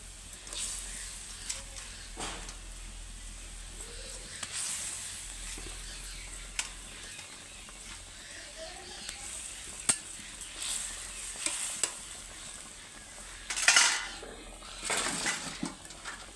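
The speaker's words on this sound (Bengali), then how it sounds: "দেখো ঝোলটা ফুটে গেছে, এবার আমি মাছগুলো দিয়ে দেবো।" Pabda fish in a boiling mustard gravy, simmering with a soft bubbling sizzle and occasional stirring scrapes, louder clatters near the end.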